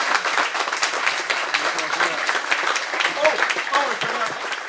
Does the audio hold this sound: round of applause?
yes